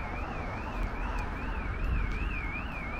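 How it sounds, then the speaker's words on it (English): A car alarm wails outside a fire station in a steady, regular rising-and-falling electronic tone, heard from moderate distance over faint background noise. "Car alarms just started going off because we were stood next to it."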